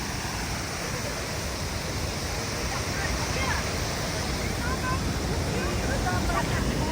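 Düden waterfall in Antalya, its water rushing down over sea cliffs in a loud, steady roar that fills the whole clip without pause.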